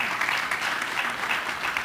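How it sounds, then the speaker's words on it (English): An audience breaks into steady, dense applause, a crowd clapping evenly throughout a short burst. "that's worth an applause"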